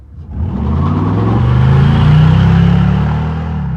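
A 1979 El Camino with an LS1 V8, on 22-inch IROC wheels, roars past up close, its engine note climbing and swelling to a loud peak before easing off as it passes.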